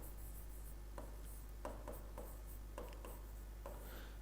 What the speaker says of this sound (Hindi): लिखता हूं मैं इस बात को